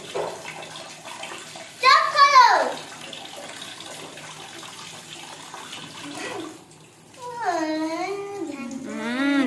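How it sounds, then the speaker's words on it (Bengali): A tap runs steadily as water streams over a toy doll being bathed and shampooed, close and constant throughout, while a voice chatters and sings over it in two bursts. "কলের নিচে জল পড়ছে কলের নিচে দাঁড় করাও"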